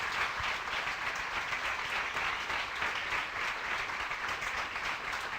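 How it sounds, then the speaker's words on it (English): An audience applauds a panel discussion, a dense steady wash of clapping that stays even and fairly loud from start to finish, with no voices on top. "I want to ask everyone to give our panel a round of applause for"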